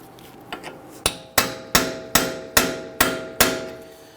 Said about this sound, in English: So you want to use a heavy-duty punch, put it in the center. We want to break that free.